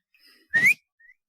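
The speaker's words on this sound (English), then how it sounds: "And just a light whistle." A single short, bright dog-training whistle that slides upward in pitch, with faint, softer whistled tones just before and after it.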